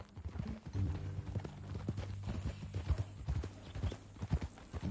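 Horse hooves clip-clop at a walking pace, with a faint voice in the background, from the video game Red Dead Redemption 2.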